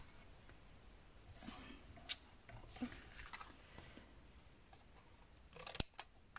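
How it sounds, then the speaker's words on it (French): Scissors snip through leftover paper scraps while a scrapbooking card is being made, a few quiet, close cuts scattered over a soft, muffled background, with a sharper snip near the end. "comme il me manque un petit morceau, je vais venir couper"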